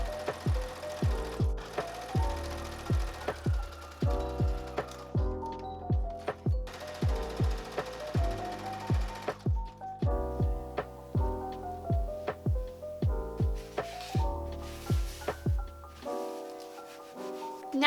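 A sewing machine stitches darts into the back pieces of a homecoming dress, running in short rhythmic bursts of rapid needle thumps, stopping and starting several times, close and clear with no talking.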